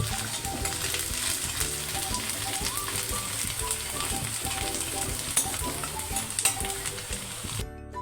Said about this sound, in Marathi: ह्याच्यामध्ये टोमॅटो ॲड करायचा आता बघा व्यवस्थित आता फ्राय होतोय